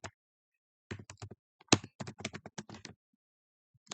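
Bursts of quick, close keystrokes on a computer keyboard, a few scattered taps followed by a rapid run of clicks, with quiet gaps between.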